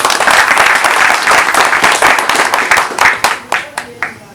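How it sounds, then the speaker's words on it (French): A crowd at a Bamougoum royal gathering applauds after the king's arrival, loud dense clapping that thins into a few scattered, separate claps near the end. "Applaudissez."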